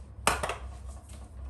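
Sautéed onions scraped down in a pan, a short metallic scrape and clink of a utensil against the pan followed by a softer second scrape, close and brief over quiet background.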